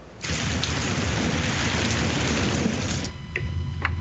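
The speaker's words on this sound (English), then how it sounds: "Very rainy and stormy here on my end." Heavy rain from a stormy day pours steadily as a dense, loud wash with thunder rumbling underneath, continuous throughout with no voices.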